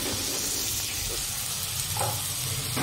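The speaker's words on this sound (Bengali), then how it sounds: "এদিকে ভাজা চলছে" Sliced onions fry in hot oil in a pan for a Bengali chicken pulao made with Gobindobhog rice, a steady close hiss and sizzle with faint clinks and a voice in the background.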